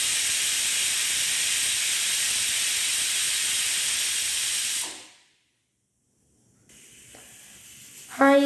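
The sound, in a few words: pressure cooker whistle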